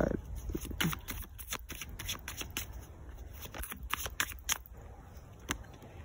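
Tarot cards are shuffled by hand at close range, a quiet run of repeated riffling flutters and soft taps with no talk.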